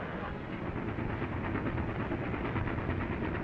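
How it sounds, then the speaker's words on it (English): A train sound effect from an old-time radio serial: a steady, loud rumbling roar of a train heading into a station, filling the whole stretch with a faint rhythmic clatter and no voices. "There's the train."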